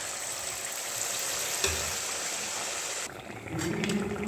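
Dhuska batter deep-frying in hot oil, a steady close hiss and bubbling sizzle throughout, with a brief splash as more batter goes in near the end.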